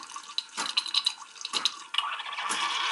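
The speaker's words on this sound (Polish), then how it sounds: "widać woda leci, sama woda" Water flows and trickles from a Zelmer Supremo 13Z013 appliance, giving a faint, steady running sound broken by a few small drips and splashes.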